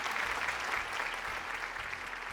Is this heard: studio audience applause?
yes